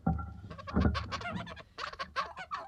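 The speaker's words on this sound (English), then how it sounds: "Geese are really loud." Loud, overlapping honks and squawks from several geese close by, rough and clamorous over a few seconds.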